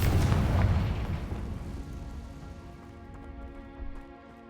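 A Bombarda and Confringo spell blast in Hogwarts Legacy, a heavy rumbling explosion that opens loud and decays over several seconds into a crackling, debris-like patter with a low drone underneath.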